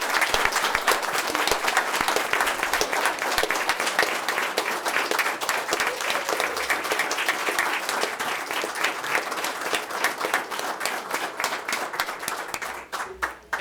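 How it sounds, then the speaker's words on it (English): Sustained, loud applause from a board of education meeting audience honoring district retirees, with many hands clapping densely and evenly before it thins out and fades toward the end. "can we please give them a big round of applause?"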